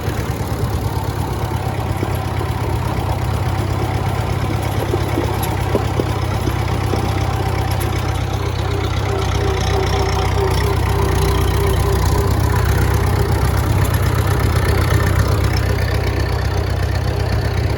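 A tractor engine runs steadily nearby in a field, a loud continuous low drone that holds without pause for the whole stretch.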